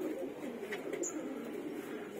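Young and female Giribaz pigeons cooing in a loft, a steady low murmur of soft coos running throughout at moderate, close range with no talk.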